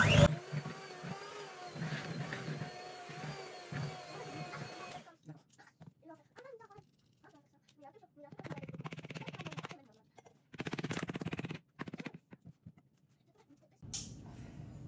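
Cake batter being mixed with an electric mixer in a bowl, a steady motor whir for several seconds that cuts off, followed by intermittent scraping and clattering bursts and a brief return of the whir at the end.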